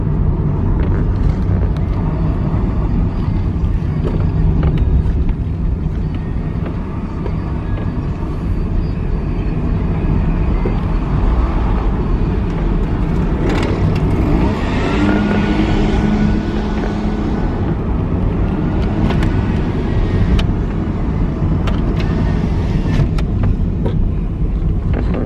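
Steady car interior drone while driving to a grocery store, a constant low road and engine rumble with some wind noise running throughout, loud and close, with no talk.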